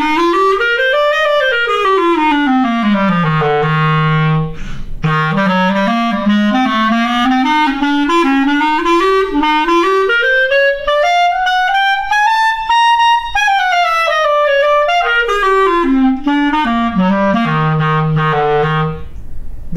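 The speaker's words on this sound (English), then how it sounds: "I'm here to tell you about the Cecilio Special Edition Clarinet." Cecilio CT-500SE Special Edition clarinet with an ebony body, silver-plated keys and Italian pads, played alone as a loud, continuous melody with smooth rising and falling runs and held notes, close and clear throughout.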